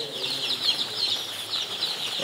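Sonali chickens on a large poultry farm give off a continuous chorus of soft clucks and chirps at moderate distance, with no talking.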